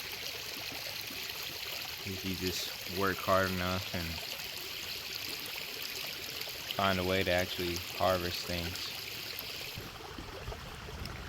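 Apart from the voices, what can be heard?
creek water flowing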